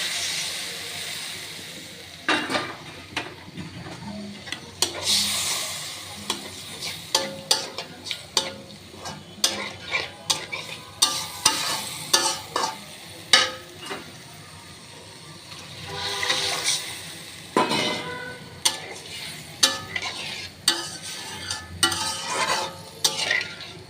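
Spices for bhuna khichuri are stirred and sautéed in a pan with a little water, producing scraping utensil strokes over a bubbling sizzle in irregular close bursts, with no talk.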